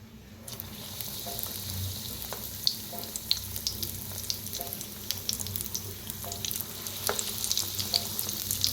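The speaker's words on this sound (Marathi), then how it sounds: "किती तेलात बसतात तेवढं तळून घ्यायचं।" Bread balls deep-frying in hot oil in a kadhai give a steady close sizzle with crackling pops and bubbling that runs evenly throughout.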